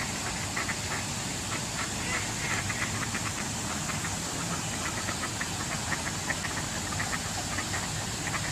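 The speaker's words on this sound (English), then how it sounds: "Ducks everywhere." Ducks at a bay beach, with soft repeated quacks scattered through steady wind and water noise, a busy outdoor flock heard at a moderate distance.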